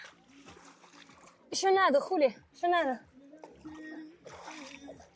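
Water splashing at a beach on the Volga river in Russia, soft sloshing and trickling heard faintly under lively talk between people near the water.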